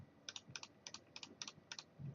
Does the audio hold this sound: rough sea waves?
no